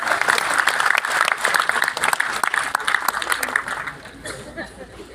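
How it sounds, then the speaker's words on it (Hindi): A live audience at a lifestyle marketing training session breaks into loud, dense clapping that continues for several seconds, with chatter and chuckles mixed in, then gradually fades toward the end. "एक बार अंग्रेजों के लिए जरा जोरदार ताली बजाओ।"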